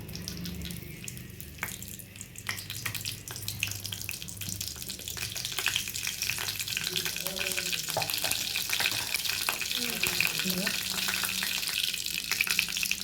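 Curry leaves dropped into hot oil for a capsicum poriyal, setting off a steady loud sizzle and crackle with scattered spits and pops that runs throughout, with a voice talking faintly underneath.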